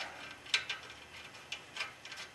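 A ratchet tightens a nut on the swingarm of a BMW F650 motorcycle, giving a few faint, irregular clicks spread across a quiet workshop background.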